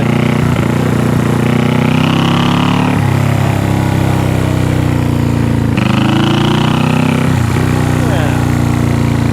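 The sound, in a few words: 1974 Honda CB360 motorcycle engine running through exhausts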